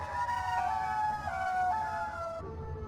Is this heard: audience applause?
no